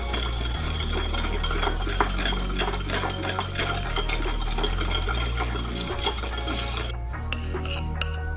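A spoon stirs a mixture with salt in a bowl, steady close scraping and light clinks continuing throughout, no voices.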